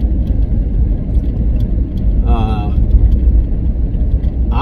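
Steady loud low road rumble inside a car driving the long road to Hatcher Pass, continuous engine and tire noise with a brief voice heard midway.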